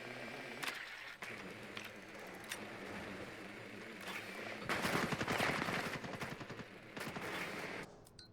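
Rainbow Six Siege gunfire in a competitive match: scattered single shots through the first half, then a dense burst of rapid automatic fire with further loud shots near the end, over steady in-game ambience.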